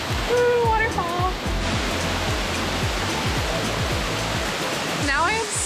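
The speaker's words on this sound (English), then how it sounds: "it's really loud. But, ooh, waterfall." A loud waterfall in Ubud, Bali roars as a dense, constant wash of falling water close by, with a voice speaking faintly over the rush.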